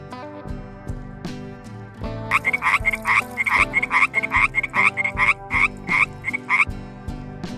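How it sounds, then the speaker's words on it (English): Male frogs held in separate farm tanks croak in a loud, rapid, rhythmic chorus of repeated calls that builds after a quieter start, with no voices. "The males are then placed in separate tanks, where they emit calls to attract female frogs."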